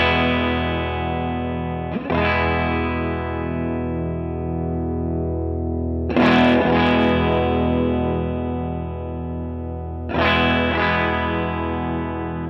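Electric guitar through a JDM Vindicator germanium fuzz pedal, three sustained fuzzy chords struck a few seconds apart, each ringing out thick and saturated as the tone EQ is swept.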